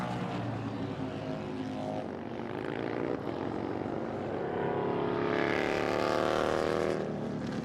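Superbike motorcycles at speed during a MotoAmerica qualifying session in New Jersey, a steady loud engine roar that swells and shifts in pitch as bikes pass, continuous throughout with no voices.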